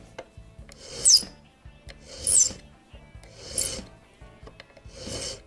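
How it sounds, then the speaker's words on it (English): A file rasps across the end of a small clock part held in a rotating pin vise on a template board during restoration of an 1837 French Japy Freres Napoleon mantle clock: four steady, close strokes at an even rhythm with no talk. "Rotating the pin vise. Till the end is square."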